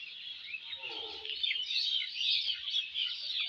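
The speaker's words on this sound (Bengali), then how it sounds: "পাখির ডাক তো শুনতেই পাচ্ছ তোমরা।" Birds calling and chirping steadily at dusk near a river, a dense chorus of bright twittering calls close by with no talking.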